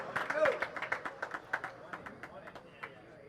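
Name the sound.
crowd applauding a tennis point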